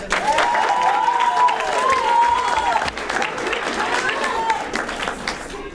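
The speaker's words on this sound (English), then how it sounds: "let's have another round of applause for our honoree" Audience applause honoring Bill Fuller, a Rotary Excellence Award recipient, at a Rotary Club event: steady, dense clapping with scattered cheers that dips briefly near the midpoint before continuing.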